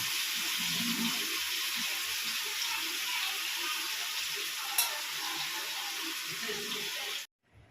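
Pieces of soybean for biryani fry in a hot pan with a steady, dense sizzle that runs unbroken and close, then cuts off abruptly near the end.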